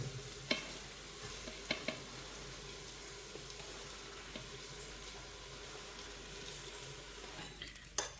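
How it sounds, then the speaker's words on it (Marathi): Mixed rice going into a pressure cooker for homemade egg rice and being stirred, with a steady soft sizzle and occasional clinks and scrapes of the spoon against the pot, close by with no talking. "सो आता जो तांदूळ आपण मिक्स करून घेतला आहे त्याला तो आपण टाकणार आहे याच्यात कुकरमध्ये"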